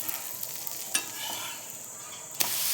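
Curry leaf dosa batter sizzling on a hot griddle, a quiet continuous crackle close by, broken by two brief scraping clicks of a utensil, with no one speaking.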